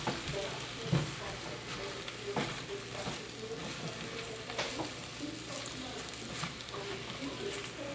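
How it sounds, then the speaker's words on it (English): Eggplant, mini bell pepper, zucchini and radish stir-fried in a pan for a masala vegetable curry, giving a steady close sizzle with scattered scraping and clinking of a utensil being mixed through. "Got the eggplant, mini bell pepper, zucchini, and some radish. Give them a quick mix."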